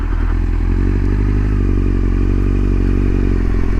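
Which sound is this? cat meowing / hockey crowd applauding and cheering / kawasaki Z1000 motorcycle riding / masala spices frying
kawasaki Z1000 motorcycle riding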